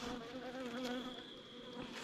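A steady, fairly quiet hum of honey bees flying out of a hive, the buzz of individual bees weaving in and out over a constant drone, close up and with no talking.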